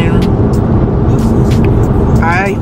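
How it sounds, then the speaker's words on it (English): A car drives through rain with a steady, loud road and engine rumble that fills the whole stretch, passing traffic swishing by, and a voice heard faintly beneath it. "I'm driving and it's raining, and I hate driving in the rain"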